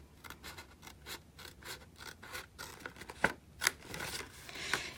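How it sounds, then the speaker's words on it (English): Scissors snipping through gift card box paper along a scored fold line, a soft run of quiet rhythmic cuts and rustles with a few sharper close snips near the end, no talking. "I'm going to cut up this score line up to the intersecting score line right there"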